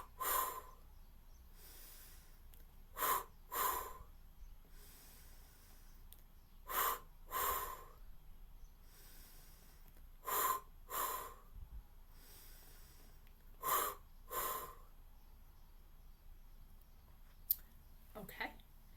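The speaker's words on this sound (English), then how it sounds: "take in the breath and do the release" Deep breaths drawn in and released in a guided stuttering-relief session, heard as about seven paired bursts of breathing at regular intervals, fairly close and moderately loud, with quiet pauses between.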